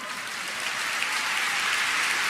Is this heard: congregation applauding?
yes